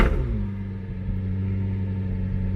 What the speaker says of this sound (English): Now I'll let you have a listen to the exhaust for just a moment.